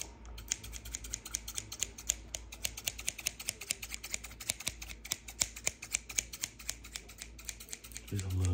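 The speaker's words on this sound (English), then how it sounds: "cut a little bit more of your hair." Scissors snip repeatedly and crisply at the edges and sides of a head of hair during a haircut, close to the microphone, in a quick, steady rhythm of sharp clicks with soft murmured talk underneath.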